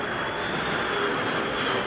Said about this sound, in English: And there behind them, the Lightnings, the F-35s. This is the first time that these aircraft have ever been seen in the skies over London.